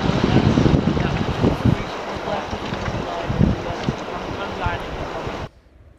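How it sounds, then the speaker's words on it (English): Wind buffets the microphone in loud, rumbling gusts in cold, rainy weather at a campsite in Gates of the Arctic, broken briefly by a voice, before cutting off abruptly near the end. "it is windy and cold too"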